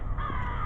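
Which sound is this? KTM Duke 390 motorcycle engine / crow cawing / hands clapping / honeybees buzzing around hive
crow cawing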